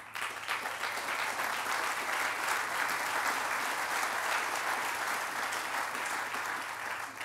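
Audience applause at a ribbon-cutting ceremony for a track and field center, steady even clapping from a sizable crowd lasting throughout, moderately distant with a faint low hum underneath and no speech.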